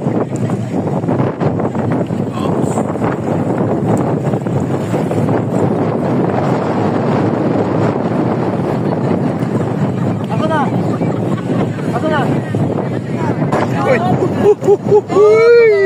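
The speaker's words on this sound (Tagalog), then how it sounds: "Napakalakas ang agos." A strong river current rushes near Infanta, Quezon, making a loud, continuous roar with wind buffeting the microphone, while voices talk over it.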